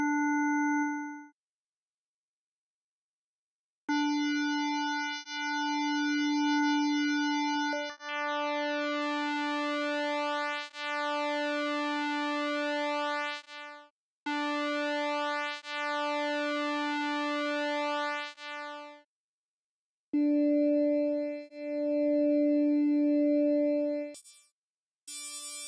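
A synthesizer doing phase-modulated pulse-width modulation, with odd harmonics added to the waveform, plays steady sustained buzzy tones in several bursts separated by short silences, loud and alone.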